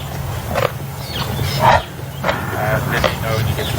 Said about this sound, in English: There's a little bit of aggression there. You may have heard a few growls.